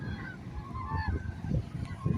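Geese honk repeatedly among ducks and swans in a crowded gathering of birds alongside cranes, with overlapping calls close by and no talking.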